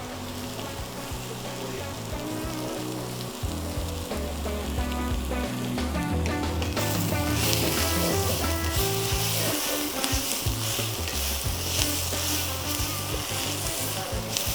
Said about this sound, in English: Now that we have our onions all nice and caramelized